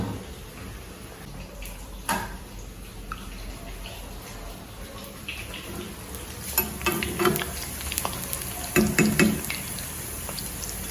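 Ivy gourd (kovakkai) frying in a pan for chilli kovakkai fry, with a steady low sizzle and occasional scraping stir strokes, louder clatter near the end.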